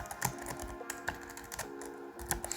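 Typing Java for-loop code on a computer keyboard: a quick, uneven stream of keystroke clicks with a few louder key strikes, close up, with no talk.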